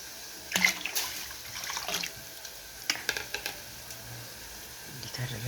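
Cold water poured into melted cooking butter in a pot gives a few splashing, bubbling bursts with a faint hiss, close by and moderately loud, separated by quieter stretches.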